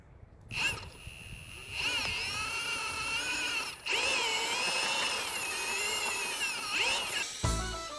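A cordless drill whirs outdoors in long sustained runs as it winds rope onto a sled tow reel, rising and dipping in pitch as it strains under load, with brief pauses between bursts.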